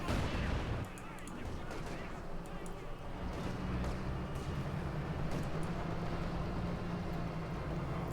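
Dense, continuous gunfire and artillery blasts from a Company of Heroes 2 battle, with rattling rounds and booming impacts over a rumbling low background, steady and loud throughout.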